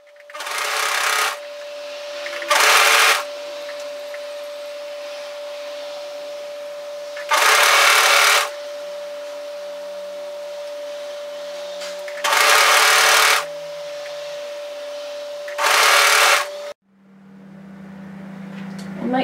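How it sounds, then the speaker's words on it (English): An overlocker sergeing a dress seam at the underarm runs in five loud whirring bursts, each one to two seconds long, separated by quieter pauses with a steady hum underneath, then stops near the end. "I'm going to start overlocking that in from one side of the underarm"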